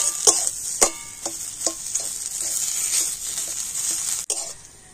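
A spoon stirs and mixes a potato filling seasoned with chaat masala and chopped coriander in a hot pan, close and sizzling, with sharp repeated scrapes and taps against the metal at an uneven rhythm.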